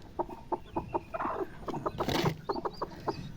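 A hen clucks while being settled onto a clutch of seventeen eggs, giving a rapid series of short, close clucks in an uneven rhythm with a brief rustle partway through.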